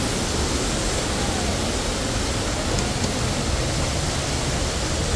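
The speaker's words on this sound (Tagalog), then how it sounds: "Unang waterfall." A waterfall at Santa Maria, Laguna, roars close and loud as an unbroken, even rush of falling water.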